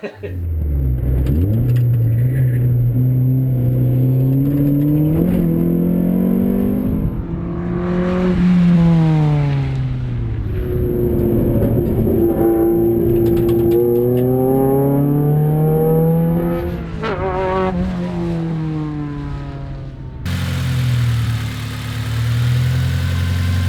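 A 1992 Honda Civic EG with a B-series engine lapping a track, the loud engine note rising and falling as it revs through gears, with shifts, lifts and repeated climbs, heard close up from inside.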